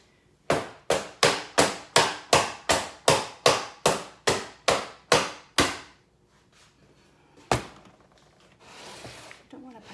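A mold of cold process soap is slammed on a table about fifteen times in a fast, even run of sharp, loud thumps, then a pause, one last heavy thump and some faint rustling.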